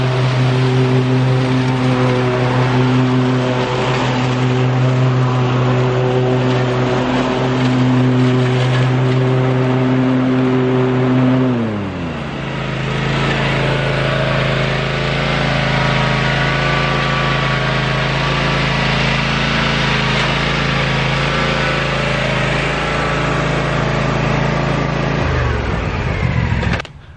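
A Cub Cadet Ultima ZT1 zero-turn lawn mower's engine runs loud and steady throughout while mowing, its pitch shifting noticeably about halfway as the blades engage and then dropping again near the end.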